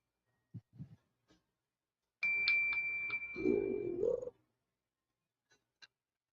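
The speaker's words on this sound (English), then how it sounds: "that bell that keeps going off? that's my watch" A smartwatch plays a motion-alert chime set off by home security cameras: one soft, short electronic ding ringing out for about two seconds, surrounded by faint scattered clicks in an otherwise quiet room.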